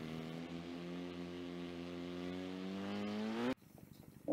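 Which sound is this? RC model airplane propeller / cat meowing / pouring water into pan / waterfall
RC model airplane propeller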